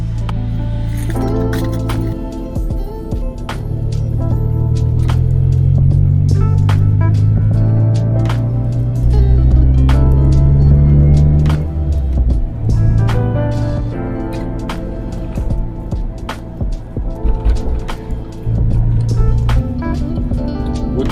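A Proton Saga with a 4G93 engine drives along, its low engine drone rising and falling steadily through the run, with clinks and rattles from the cabin over the top.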